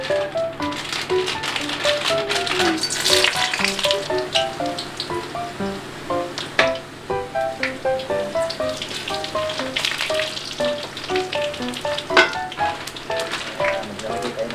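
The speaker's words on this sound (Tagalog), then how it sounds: "mainit na yung kawali, so ilalagay na natin yung mga street foods na ating lulutuin" Filipino street foods such as squid balls frying in a hot wok: a dense crackling sizzle with rapid rattling pops throughout, up close. Loudness pulses as pieces are added and shifted, with no clear talk.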